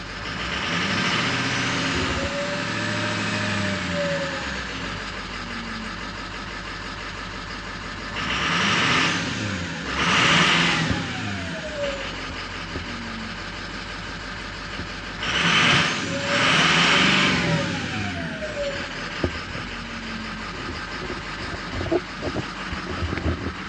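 A Ford 6.0 liter diesel engine runs with its turbocharger whistling, a steady idle punctuated by two louder revving surges with rising and falling whine, close by and without talk.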